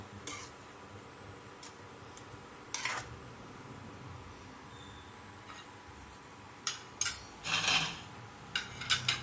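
A spoon stirring creamy tom yum soup in a cooking pot gives faint scraping and clinking strokes, a few sparse knocks against the pot over a low simmering background, growing busier near the end.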